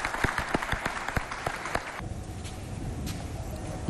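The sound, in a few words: applause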